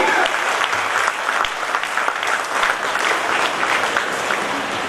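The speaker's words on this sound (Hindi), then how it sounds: "जबरदस्त ताली आप सभी की ओर से जबरदस्त ताली" Dense, loud applause from a seminar audience greeting a founder member, continuous crowded clapping throughout with no break.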